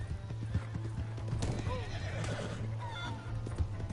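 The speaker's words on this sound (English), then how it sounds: "Hey, that's my horse." A horse in the video game Red Dead Redemption II clip-clops at a gallop and lets out a neigh, its hooves drumming steadily at moderate volume with faint game ambience behind.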